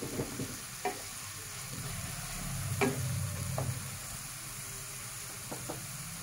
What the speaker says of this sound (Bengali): খুব সুন্দর একটা পেঁয়াজ ভাজা এবং টমেটো ভাজা